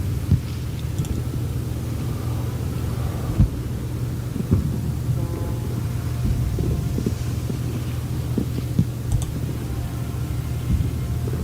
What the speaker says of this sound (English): get some nasty wind out there